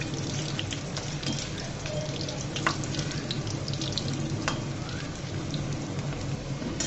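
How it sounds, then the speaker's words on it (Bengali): A flour snack stuffed with boiled potato deep-fries in oil, giving off a constant, rain-like crackling sizzle with a few sharper pops. The sound is steady and close, with no talking. "উল্টিয়ে পাল্টিয়ে লাল লাল করে ভেজে নিব"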